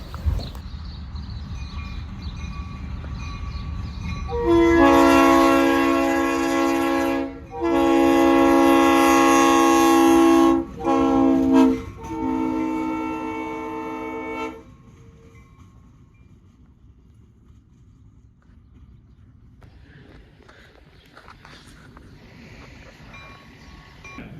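Strasburg Railroad locomotive 8618 arrives with a loud, sustained horn blast broken by short gaps, followed by quieter rumbling and clanking of the train rolling past.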